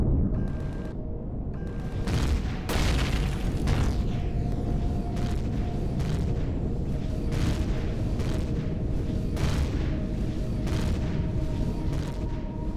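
Turrets on a platform are blown apart in the space survival game Empyrion Galactic Survival, a rapid run of heavy booms and blasts over a constant dense rumble, loud and close throughout.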